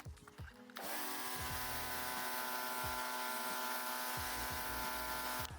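A power drill brush whirs steadily for several seconds scrubbing Range Rover floor mats, a loud continuous buzzing hum with a scrubbing texture, starting abruptly and cutting off near the end.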